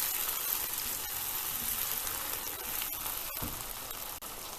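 Peppers tossed with sauce in a hot pan give a constant, dense hiss of frying with faint scraping underneath, steady and close, no voices.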